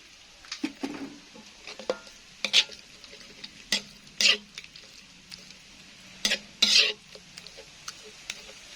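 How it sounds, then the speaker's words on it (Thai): Intermittent scraping and clinking of a utensil stirring chili with a little water in a pan, irregular strokes over a faint background, with a few sharper metallic scrapes. "เราก็เติมน้ำเข้าไปนิดหน่อยพอคลุกคลิก"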